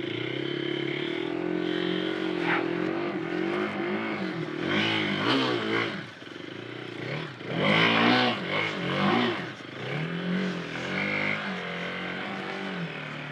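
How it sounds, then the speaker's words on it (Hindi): A Hero Xpulse 200 4V Rally Edition motorcycle revving with its wheel stuck in mud, throttle blips rising and falling in several close, loud surges, with engine clatter between them. "हल्का सा थ्रॉटल देके दिखाता हूँ"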